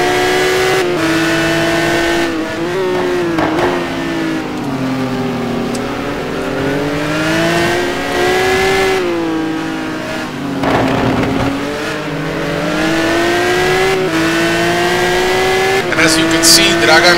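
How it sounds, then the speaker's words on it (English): Race cars in the GT1 class of a racing video game at Sebring, engines howling and tires screeching at the limit through a corner, a steady loud blend under continuous commentary. "Those tires screeching at their limits"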